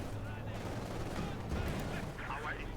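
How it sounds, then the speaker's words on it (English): Submachine gun fire from conscript infantry in Company of Heroes 2, faint rattling bursts of automatic gunfire mixed with distant battle noise, sitting underneath someone talking. "they could get wiped out here by the submachine wielding conscripts"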